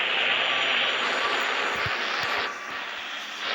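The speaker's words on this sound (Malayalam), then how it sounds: "ഇങ്ങനെ ഞാൻ ഈ ഓഫ് റൈഡർ ബൈക്ക് ഒന്ന് എടുക്കട്ടെ." Off-road bike engine in the Indian Bike Driving 3D video game, a loud steady drone that holds even and then drops slightly, with a few faint low knocks and no talking.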